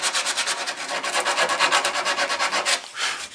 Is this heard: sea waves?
no